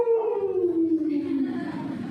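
A voice imitates a dog's bark as a single drawn-out, falling vocal cry, loud and close, lasting about two seconds.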